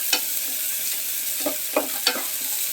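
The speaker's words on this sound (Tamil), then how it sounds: "வெங்காயம் போட்டு தாளிச்சிடலாம்." Onions frying in hot oil with cinnamon, clove, cardamom and fennel, a loud steady sizzle with a few sharper pops and stirring clatters, close and without talk.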